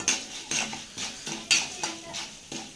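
Toor dal roasts in a pan with a little oil, heard as rhythmic spoon-against-pan scrapes and clinks about twice a second over a faint sizzle, close and fairly quiet.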